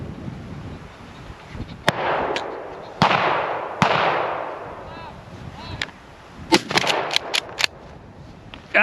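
Shotgun blasts at a tower pheasant shoot ring out outdoors: a few sharp, loud reports spaced several seconds apart, then a quicker cluster of distant cracks near the end, with a faint voice in between.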